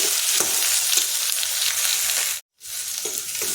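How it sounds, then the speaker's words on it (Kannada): Potatoes fry in hot oil in a pan, a loud, close, steady sizzle that breaks off briefly and then resumes. "ಇವಾಗ ಆಲೂಗಡ್ಡೆ ಹಾಕ್ಕೊಂಡು ಸ್ವಲ್ಪ ಹುರಿದು ಆಮೇಲೆ ಕ್ಯಾಪ್ಸಿಕಮ್ ಹಾಕ್ಕೊಳ್ತೀನಿ"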